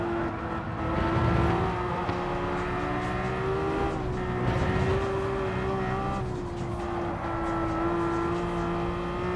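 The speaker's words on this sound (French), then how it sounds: "le bruit de la Taycan" Porsche Taycan race car in Gran Turismo 7, a steady electric-motor whine rising and falling in pitch with a sustained loud drone and occasional tire noise, continuous throughout with no talk.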